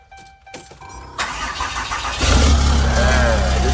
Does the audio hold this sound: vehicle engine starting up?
yes